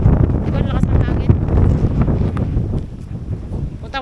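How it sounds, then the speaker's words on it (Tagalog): Strong seaside wind buffets the microphone with loud, low rumbling gusts that surge and ease, and voices talk faintly under the roar. "Diba lakas ng hangin?"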